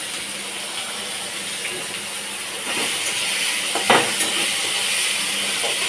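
Chopped onions poured into a hot pan for a fish-head moong dal, a steady hiss that swells into louder sizzling partway through, with a brief clatter, close and continuous.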